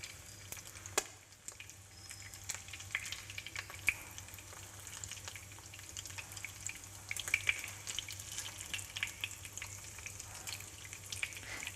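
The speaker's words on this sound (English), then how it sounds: "And lightly fry one side." Salmon fingers coated in breadcrumbs frying lightly in a pan, a quiet steady sizzle with small crackles and pops close by, no talking.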